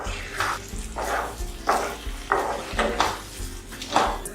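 Bread halwa made with ground almonds, cashews and ghee is stirred in a pan, a spoon scraping the metal in regular rhythmic strokes about every half second, close and clear over a soft background.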